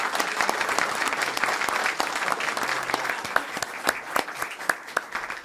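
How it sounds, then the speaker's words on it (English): Audience at a town candidates' night in Plaistow breaks into sustained applause for the candidates, dense steady clapping from a room full of people with a few sharper claps standing out near the end. "how about a round of applause for all of our candidates?"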